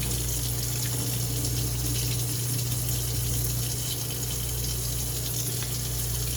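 Tap water runs steadily and loudly into a sink while a film developing tank is rinsed, a constant rushing flow with a low hum beneath and no speech.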